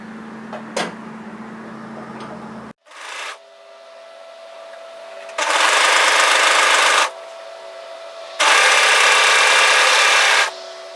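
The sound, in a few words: overlocker sewing sweater shoulder seam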